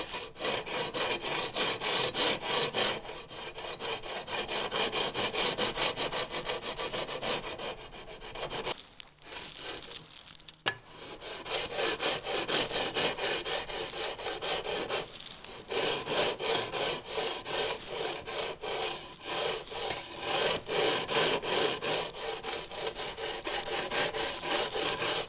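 Guitar frets levelled with an 80 grit sanding beam on a bound neck: loud, close, rhythmic scraping strokes in long runs, with a couple of brief pauses between passes.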